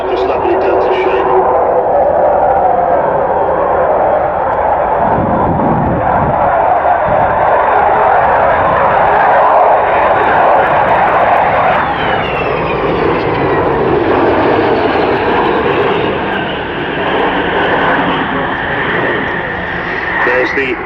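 Avro Vulcan delta-wing jet bomber with Rolls-Royce Bristol Olympus engines roaring through a flying display at an airfield, a loud continuous broadband rumble and howl that swells and shifts steadily throughout, with a commentator talking over it.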